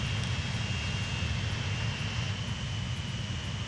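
An airplane touching down in Transport Fever 2 gives a steady, continuous engine roar with broadband rumble and a faint high whine, holding even in level throughout.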